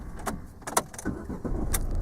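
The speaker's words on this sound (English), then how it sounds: "restart the engine" A car engine turns over and starts, a low rumble rising into a steady idle, with a few light clicks and jangles near the start.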